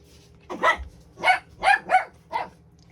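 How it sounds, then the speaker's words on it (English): Dogs barking on a morning, a run of five sharp barks in quick irregular succession, moderately close, with no talking over them. "Oh, dogs are rowdy this morning."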